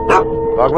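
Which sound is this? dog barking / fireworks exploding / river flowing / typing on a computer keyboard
dog barking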